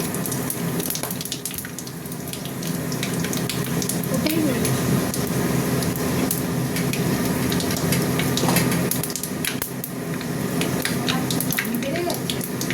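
Dried red chillies and two bay leaves sizzle steadily in hot oil in a home kitchen, a close, continuous crackling fry with a voice talking over it.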